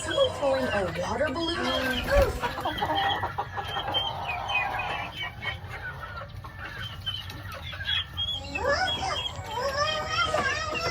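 Chickens and roosters on a rooster farm clucking and calling close by, with someone talking throughout and children's voices in the background.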